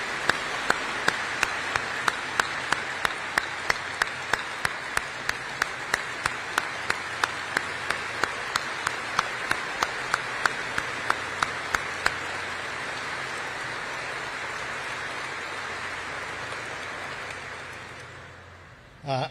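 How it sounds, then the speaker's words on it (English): Audience at an Air Force aircraft arrival ceremony applauds, a soft even wash of clapping with sharp regular ticks running through it that fade out near the end, fairly quiet and distant. "I would ask you all to join me in a round of applause for them."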